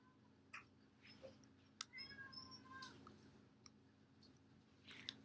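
A household cat makes a few faint, scattered calls and chirps, alongside small taps and clicks, in a quiet indoor room with a low steady hum underneath.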